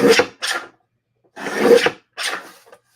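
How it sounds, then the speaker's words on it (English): A paper trimmer slicing the sides off a greeting card, heard as four short rasping strokes close up with brief silent pauses between them. "all I do is just trim off the sides"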